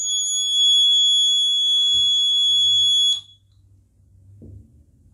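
A loud, steady high-pitched electric buzzer in a liquid conductivity test with salt added drones for about three seconds, then cuts out, leaving faint low rumbling and small knocks.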